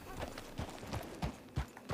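Steady clip-clop of horse hooves in a video game trots along at an even pace, slightly muffled and distant, with faint background noise.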